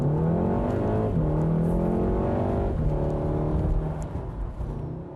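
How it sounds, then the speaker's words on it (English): A VW Golf R with a 221 kW four-cylinder engine accelerating hard, heard loud from inside the cabin as a rising, raspy drone through several gear changes with brief dips between them. "The Golf R has plenty of sound in the interior, considering that its engine has only 4 cylinders."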